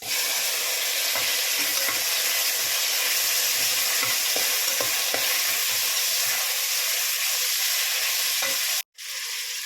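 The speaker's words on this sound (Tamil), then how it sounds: "வெங்காயம் வதங்கிச்சு, தக்காளி போட்டுக்கலாம்." Onion and tomato fry in a pan with a steady, dense sizzle and scattered crackles and stirring scrapes, loud and continuous until a brief break near the end.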